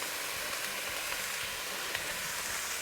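Chickpeas and paneer hitting a hot pan for a pulao, giving a dense, even sizzling hiss that holds steady and close for a few seconds, with no talking.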